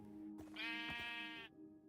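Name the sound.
sheep bleating in Minecraft video game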